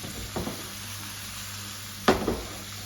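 Keema mince fries with chili powder in a pan, a soft continuous sizzle broken by two brief louder bursts of stirring or scraping, close and without voices.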